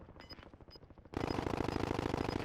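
Rapid automatic gunfire in a battle royale video game, a steady rattling stream of shots that grows much louder and closer partway through, continuing without pause.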